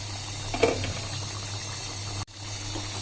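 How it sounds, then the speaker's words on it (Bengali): Doi chicken curry made with broiler chicken simmers in a covered pot over a medium flame. It bubbles steadily and close up for a few seconds, with a short break in the sound partway through. "এখন আমি এটাকে ঢেকে মিডিয়াম জালে রান্না করব"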